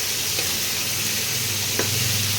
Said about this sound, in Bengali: হালকা করে এভাবে ভাজতে হবে।